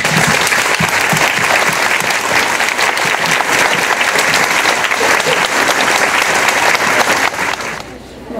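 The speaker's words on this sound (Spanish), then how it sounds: "Brindémosles un aplauso." A parish congregation in Cuitzeo gives loud, dense applause during a church celebration at the August fiestas, a sustained roar of many hands that holds steady and then tapers off abruptly at the end.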